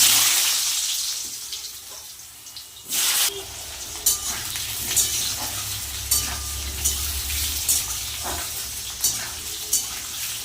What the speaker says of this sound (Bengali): একটু আলুগুলো লাল লাল করে ভেজে নেব